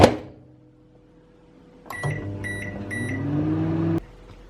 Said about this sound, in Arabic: ناخد البولة دي ندخلها الميكروويف.